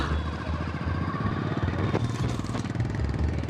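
A motorcycle engine runs steadily nearby with a low, rough idling rumble and faint clatter, no voices over it.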